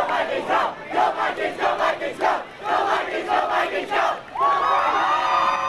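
A crowd roars and cheers at a high school boys' swim meet, the annual Fishbowl at Pleasant Valley Pool in Chico, with loud, sustained shouting and whooping in surging waves that ends in a bright, drawn-out cry.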